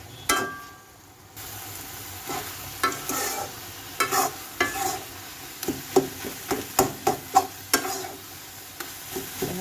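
Spinach and fish are stirred and fried in a pan for a Bengali palong shak ghonto. A steady sizzle runs throughout, with a string of sharp scraping knocks from the spatula that come faster toward the end.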